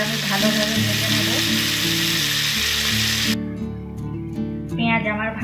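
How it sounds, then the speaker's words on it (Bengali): Chopped onion frying in oil in a pan for a potato and egg curry, a steady close sizzle running under music that carries on after the frying noise drops away partway through. "পেঁয়াজ আমি ভালোভাবে ভেজে নেব"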